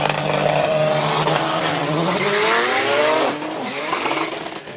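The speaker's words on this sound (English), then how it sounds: "Ishmael Davids launches the E46 BMW" An E46 BMW race car launching off the line at a hill-climb event roars loudly as its engine climbs through the gears, with rising pitch sweeps before the sound briefly drops and then continues more distantly.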